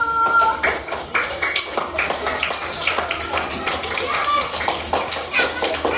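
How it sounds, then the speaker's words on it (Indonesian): Schoolchildren in a classroom clapping for a group of classmates, a brisk scattered burst of applause mixed with small voices and chatter throughout. "Kasih tepuk tangan untuk kelompok 1."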